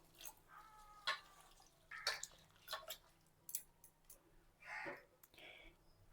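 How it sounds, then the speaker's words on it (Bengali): Red lentils being washed by hand in a bowl of water give soft, close sloshing, splashes and drips in irregular bursts, fairly quiet overall. "এখন ডালগুলোকে জল দিয়ে খুব ভালো করে ধুয়ে নেব।"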